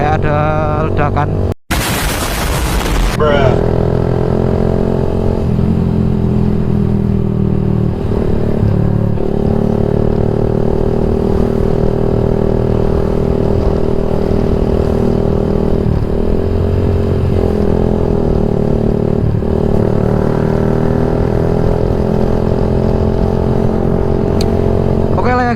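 A Yamaha MX King 150 motorcycle fitted with a Rob1 TGA exhaust, heard close after a brief sharp pop, then holding a loud, steady idle rumble with slight revving swells throughout.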